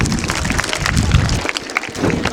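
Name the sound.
audience applause at quiz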